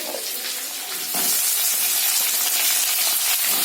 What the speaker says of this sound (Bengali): পেঁয়াজ আর ক্যাপসিকাম দুটোই একসাথে দিয়ে দিলাম